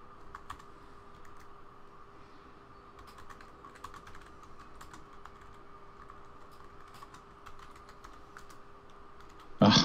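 Someone plays a video game at a computer, clicking through in-game powers without a keyboard macro. Light, steady key and mouse clicks patter quietly for about ten seconds over a faint hum, ending in a brief louder bump.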